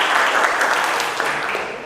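Classroom applause for two students, a steady burst of clapping from many hands at close range that holds for a couple of seconds and thins slightly toward the end.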